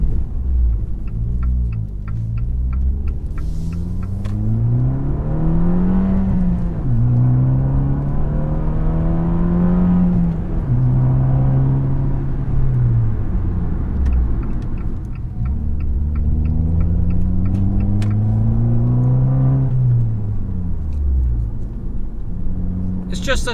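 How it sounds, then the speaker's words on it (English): A 2019 Fiat 500 Abarth with manual transmission revs and accelerates through several gears, its small engine and exhaust rising in pitch, dropping at each shift, and climbing again, loud and close with a rumbling, raspy note. "The exhaust note on this is ridiculous for as small of an engine and as small of a car that this is"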